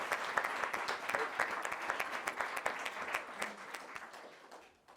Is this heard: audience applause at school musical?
yes